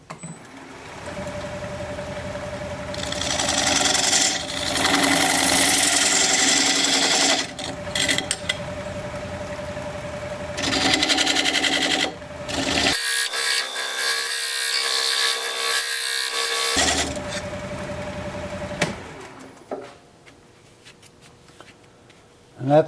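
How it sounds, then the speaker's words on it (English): A diamond point tool cutting a wood tenon on a lathe gives a loud, continuous scraping hiss that comes in long strokes with short breaks, close up, before fading to a quieter spin near the end. "I'm going to use this diamond point tool to square up the sides of the tenon."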